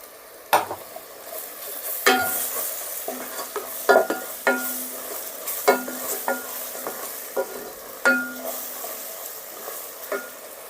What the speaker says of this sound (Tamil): மிளகாத்தூள் சேர்த்துக்கலாம். கிளறிக்கலாம்.